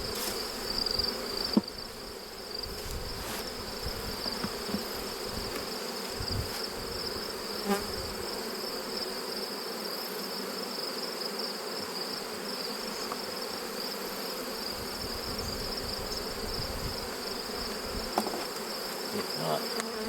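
Honey bees buzzing steadily around an opened beehive during a frame inspection, a dense continuous hum close by, with occasional clicks and handling knocks and no talk.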